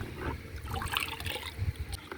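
Mango sharbat poured into a glass gives a soft, close trickle of liquid with faint splashing, steady for about two seconds with no voices over it.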